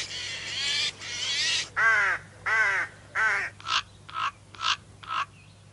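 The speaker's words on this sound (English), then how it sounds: "That's actually three different types of crow, their calls." Calls of three different crow species strung together: a few long harsh caws, then a run of shorter, evenly spaced clipped caws, loud and close with nothing else heard.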